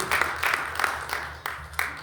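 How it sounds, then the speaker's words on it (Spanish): A church congregation claps during worship, giving a loose scatter of hand claps with a few sharper accented beats over a low hum, moderately near and fairly soft. "Denle un aplauso, aleluya, porque Él está aquí."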